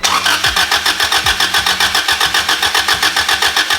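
Starter cranking an engine with no spark for a cylinder 4 compression test, a fast, even chugging rhythm that sounds loud and near and continues for about four seconds.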